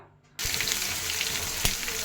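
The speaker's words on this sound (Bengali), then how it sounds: "চিংড়ি মাছগুলিকেও দিয়ে আরও সুন্দর করে ভাজা ভাজা করে নেব।" Prawns drop into hot oil with bay leaf and onion and start sizzling at once after a quiet moment, a close, steady crackling fry with one sharper spit near the end.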